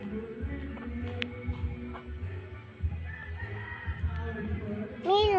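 A rooster crows near the end, rising over a steady low rumble and faint background chatter, with occasional clucks earlier.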